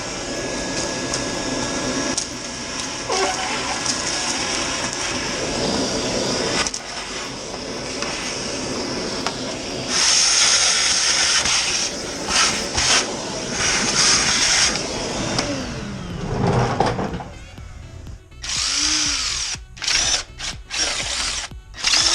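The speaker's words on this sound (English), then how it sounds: "so we got our shop vac." A shop vac cleans the engine bay of a 1985 C4 Corvette with an L98 tuned port injection V8, its loud steady motor roar shifting in pitch as the nozzle moves, with several abrupt cuts and restarts near the end.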